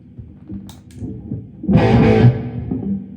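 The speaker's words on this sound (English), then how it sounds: "So now I have a nice room reverb." Electric guitar played through a Carl Martin Headroom Mini reverb pedal set to a room reverb: a few soft picked notes, then a fuller strummed chord that swells and lingers with a short, roomy tail.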